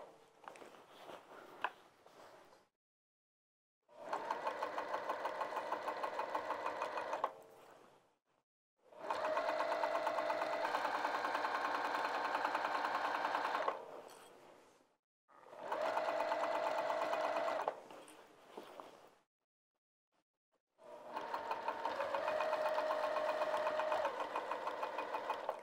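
A sewing machine top stitches a bag lining down over a knife pleat in four long runs of fast, even stitching separated by short pauses, close and steady.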